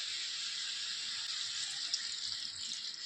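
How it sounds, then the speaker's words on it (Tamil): Steady hiss of water pouring and splashing into a pan of cooking chicken liver, continuous and close, with no talking. "இப்படி தண்ணி ஊற்றுறோம்."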